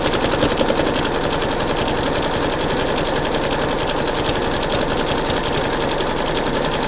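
A sewing machine runs continuously, stitching a fabric casing over rope with a fast, even needle rattle and motor drone throughout, close and steady.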